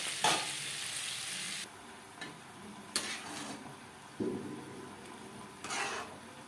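Cauliflower, onion, garlic and tomato being stirred in a pan for egg khichuri, intermittent bursts of sizzling and scraping that come and go in short rounds, close and fairly quiet, with no speech.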